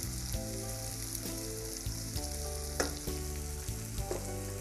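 Tomatoes frying with onions and chillies in a pan, a steady loud sizzle with stirring clatter and a few sharp scrapes, no talk.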